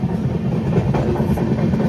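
A passenger train running at night from Kalyan toward Bhubaneswar makes a loud, steady low rumble with a constant rushing hiss, heard close by from on board.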